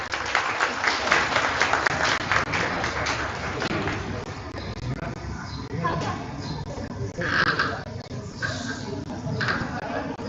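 Audience applause at an academic conference on technology and education, greeting the chief guest: a sustained wash of many hands clapping throughout, fairly loud and close, with a crowd murmur mixed in and a voice speaking over it.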